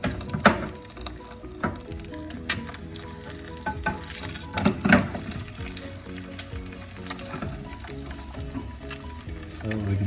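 Eggs fry in a pan with a soft crackling sizzle, broken by scattered sharp clicks and scraping knocks of utensils and cookware, at moderate volume with no speech.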